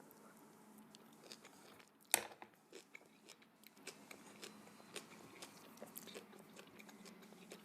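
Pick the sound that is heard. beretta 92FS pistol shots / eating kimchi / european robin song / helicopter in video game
eating kimchi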